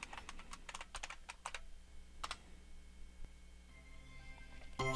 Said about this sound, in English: Enter name, and then the password.